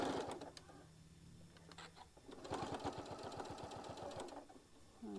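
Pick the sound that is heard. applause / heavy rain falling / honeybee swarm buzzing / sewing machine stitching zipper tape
sewing machine stitching zipper tape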